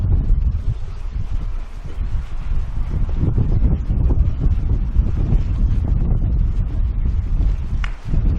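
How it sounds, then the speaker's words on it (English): Steady breeze blowing at the sheltered harbor of Telegraph Cove on Vancouver Island, a continuous low rumbling buffet of wind against the microphone with no voices. "Standing out here, I can feel the breeze."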